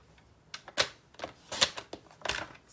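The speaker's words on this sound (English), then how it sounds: "let's trim this down to maybe 2 inches." Sharp clicks and slices from a paper trimmer cut card stock for a Halloween card, four or five close, distinct strokes spaced unevenly, with no talking.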